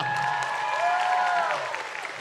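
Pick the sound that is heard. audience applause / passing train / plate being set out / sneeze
audience applause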